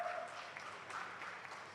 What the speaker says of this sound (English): Oh, the applause is getting louder from that end.